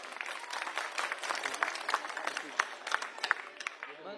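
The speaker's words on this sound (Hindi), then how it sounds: "एक बार जोरदार तालियां अपने लिए बजा लीजिए आप" A crowd at an outdoor political election rally in Kondali, Delhi, bursts into loud, sustained applause, dense clapping with a few sharper claps standing out near the end.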